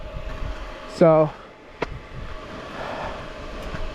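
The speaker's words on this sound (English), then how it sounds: "My key is off right now and the fan is still running, and it will run and run and run and run and run." A motorcycle's radiator cooling fan keeps running with the ignition key off, giving a steady, fairly quiet whirring hum throughout, with a brief spoken word over it.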